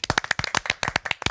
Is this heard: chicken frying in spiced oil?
no